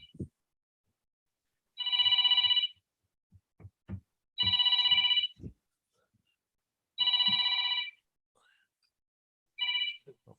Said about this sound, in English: Damn new phone. I can't turn the damn thing off.